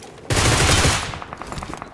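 Gunfire crackles through a castle-themed online shooter match, a loud dense burst of rapid shots for about a second, then a trail of fainter, spaced distant shots continuing in the background.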